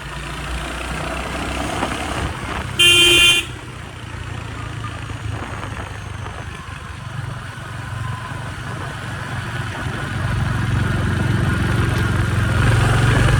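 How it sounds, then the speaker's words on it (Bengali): A Royal Enfield Hunter 350 motorcycle engine hums steadily on an empty road at night, its low rumble growing louder toward the end, with a brief higher tone partway through. "এখন মাঝে রাত্রির 1টায় এখন আমি বেরিয়েছি বাইক নিয়ে"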